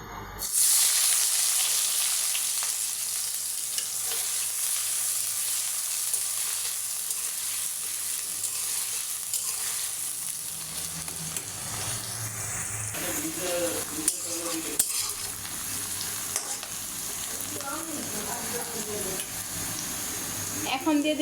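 Chopped onions frying in hot oil in a wok after four dried chilies, a loud sizzle at first that settles into a softer hiss, with stirring clinks and a voice later on.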